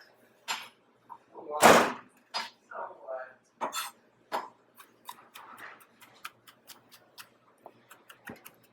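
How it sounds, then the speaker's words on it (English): A kitchen knife cracks raw garlic with a sharp thump, then chops and minces it on a board in a run of quick, uneven taps that grow lighter and faster. "I want to demonstrate how to crack and mince garlic"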